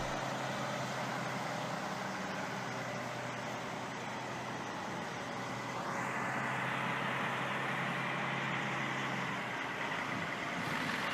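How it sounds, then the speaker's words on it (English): A heavy-duty tractor pulling a lowboy trailer loaded with a huge concrete beam pulls slowly away from a manufacturing plant, a steady broadband engine and road roar with a low drone throughout, swelling slightly partway. "the transport vehicle slowly departs from the manufacturing facility, moving cautiously to ensure stability and safety"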